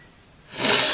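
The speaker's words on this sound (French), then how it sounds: "je renifle toujours, je sais pas pourquoi" A person sniffs sharply through the nose while applying makeup, one short close breathy intake after a near-silent pause.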